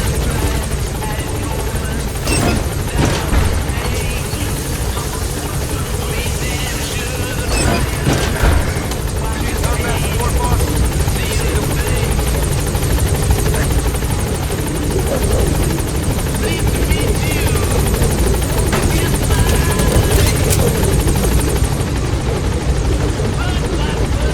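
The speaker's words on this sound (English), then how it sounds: "Support helicopter has arrived." Steady, loud rotor drone with a constant whine from a support helicopter hovering in Metal Gear Solid V: The Phantom Pain, continuing throughout with faint voices and game effects underneath.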